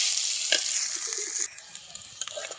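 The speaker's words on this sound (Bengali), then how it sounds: "এখানে ঝাল পেঁয়াজ ভাজতেছি।" Onions and chilli frying in a pan beside a fish curry, a steady close sizzle with a brief stir, the hiss dropping to softer crackles partway through.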